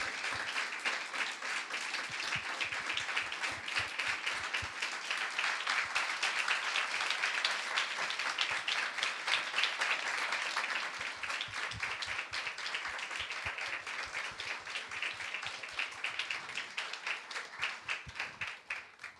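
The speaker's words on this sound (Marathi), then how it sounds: "टाळ्या वाजूयात, प्रभूला धन्यवाद देऊयात." A church congregation at a Sunday sermon applauds together, producing sustained, dense clapping that holds steady for nearly twenty seconds before tapering slightly toward the end.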